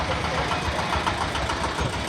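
A small engine-powered river boat carrying passengers toward Bholaganj Sada Pathar, its motor droning steadily and continuously at close range with a rough, knocking edge over water and wind noise, without pause.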